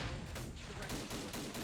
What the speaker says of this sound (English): Rifle grenades immediately going off.